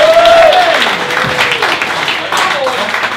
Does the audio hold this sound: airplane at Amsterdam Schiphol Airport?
no